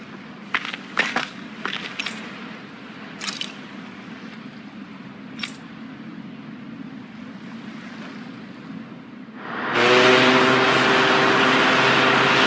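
Ship sailing on ocean waves in Tales of Arise, quiet low ambience with a few soft knocks and creaks at first, then a loud sudden surge of rushing water and wind near the end.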